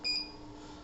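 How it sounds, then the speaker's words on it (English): A single short electronic beep from a BT100S peristaltic pump's control panel, clear and close, fading into quiet room hiss. "You are listening to the beep sound."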